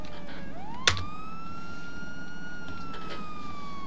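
Ambulance siren in GTA V, a loud wailing tone that sweeps up and holds, with a sharp click near the start, alone without talk.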